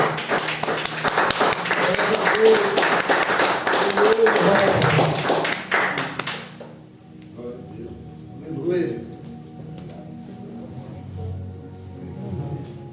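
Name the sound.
audience applauding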